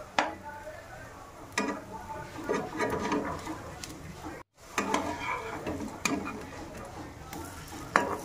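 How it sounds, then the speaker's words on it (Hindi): Homemade vegetable kebabs frying in a pan, a soft steady sizzle close by with occasional clinks and scrapes of a utensil turning them. "इसी तरह से सारे कबाब हम फ्राई कर लेंगे।"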